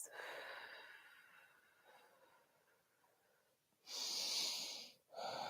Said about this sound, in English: Really breathing through these movements.